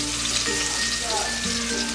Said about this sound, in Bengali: পেঁয়াজটাকে আমি বাদামি করে ভেজে নেব।